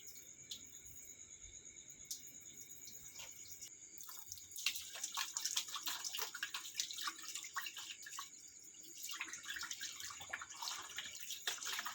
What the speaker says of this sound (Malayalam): നമുക്ക് ഇതിലത്തെ ഒരു ചെമ്പിലത്തെ വെള്ളം ഒന്ന് ഊറ്റാം